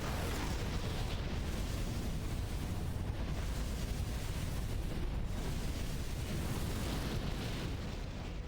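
A giant arms fort in the mech game Armored Core 4 blows apart in a sustained, roaring explosion, a dense and continuous rumble of blasts that holds loud and steady throughout.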